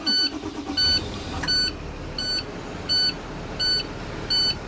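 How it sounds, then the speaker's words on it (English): A vehicle engine idling to rebuild air brake pressure toward the 120 psi governor cutoff, steady low running under a regular series of loud electronic warning beeps, about seven in all. "Now, I will starting the vehicle to rebuild the air pressure back up to the governor cutoff,"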